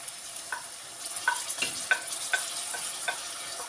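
Onions and peppers fry in a pan as tomatoes go in, a soft sizzle broken by sharp scraping and clicking stirs every half second or so, with no talking.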